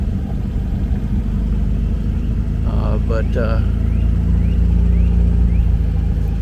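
An old car engine, back on the road after 30 years, hums and rumbles steadily while driving, with a low, constant drone throughout and no talking.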